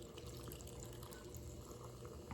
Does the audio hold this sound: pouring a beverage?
yes